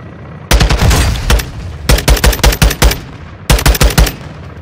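Automatic gunfire from Modern Warfare II during a Ghost Team air base assault, in three loud, close bursts of rapid shots separated by short pauses, with no talking.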